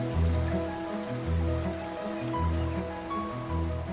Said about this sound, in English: After rain, water seeps from the hills.